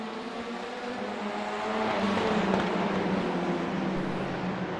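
A pack of race cars at Barber Motorsports Park accelerates off the start of a touring-car race, engines rising into a steady loud roar that swells as they pass, with no talk.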